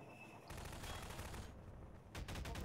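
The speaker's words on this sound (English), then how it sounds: "There's a grenade behind you." Grenade blasts in Half-Life 2 multiplayer: a loud broadband burst erupts and rumbles on for about a second, then a second explosion with crackling debris follows near the end, no voices.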